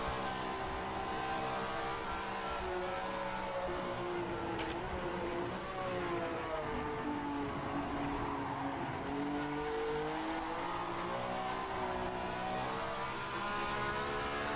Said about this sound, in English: How is the engine sound now that I've increased the volume a bit?